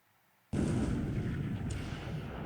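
Naval gunfire in the wartime strategy game War in the Pacific: a sudden loud blast after a moment of near silence, followed by a sustained rumbling roar.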